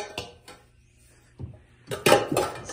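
A cooking pot is handled and set down in a kitchen, giving a few clattering metallic knocks that build toward the end, fairly close and with no talk over them.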